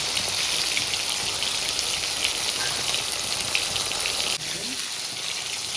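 Cabbage pieces coated in gram flour batter fry in hot oil with a dense, steady, rain-like sizzle that holds loud throughout and eases briefly near the end.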